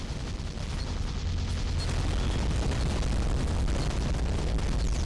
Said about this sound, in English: constant explosion sound effect blasting out your speakers